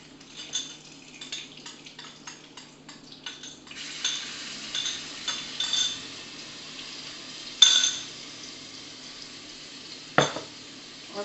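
Garlic fries in oil with asafoetida in a pan while a utensil stirs it. A soft sizzle runs underneath scattered scraping strokes and a few sharper metal clinks against the pan.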